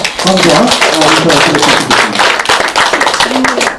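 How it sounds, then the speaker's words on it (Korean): An audience claps loudly for a professor after his lecture, dense and close, while a voice speaks over the applause. "김종철 교수님 큰 박수"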